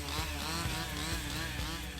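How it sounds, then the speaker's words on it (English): A chainsaw cuts black wattle during outdoor harvesting, its engine droning loud and steady with a few rhythmic dips and surges as the blade bites, with no voices. "And then those who are operating the chainsaws start working."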